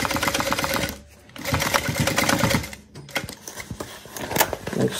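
A sewing machine stitches a fabric gusset onto a bag in steady bursts of rapid mechanical whirring, with two short pauses between runs and softer clicking near the end.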